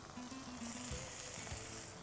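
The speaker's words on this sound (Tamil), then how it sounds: "இது மசாலா கொதிக்குது" Steady sizzling and bubbling of masala simmering in a pan on the stove, a close, continuous hiss with a few soft low thumps.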